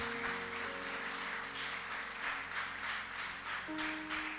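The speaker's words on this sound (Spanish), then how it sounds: "Dale un fuerte aplauso al Señor." Congregation clapping during a church service, a steady sustained patter of applause under sustained organ-like music tones, moderately faint.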